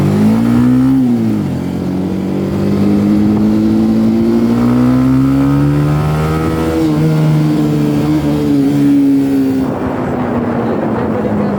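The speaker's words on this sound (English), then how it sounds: "And it is just a traffic mess. Jam." A close, loud engine drone moves through a busy street crowded with cars and motorbikes during Tet holiday preparations in Lao Cai, its pitch rising and falling with throttle and mixed with a rougher traffic rumble near the end.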